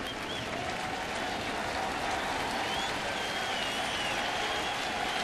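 Steady, dense applause from a baseball crowd at a Cincinnati at St. Louis game, rising for a long at-bat of twelve or more pitches; broad and continuous, filling the whole stretch with no pauses.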